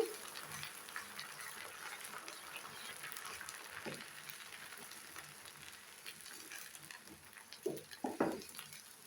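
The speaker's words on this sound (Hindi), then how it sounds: "फौरन ही आपने इसमें चम्मच चलाना शुरू कर देना है।" A spoon stirring a makhana halwa mixture in a pan over heat, with faint scraping and soft sizzling throughout and a few louder clattering strokes toward the end.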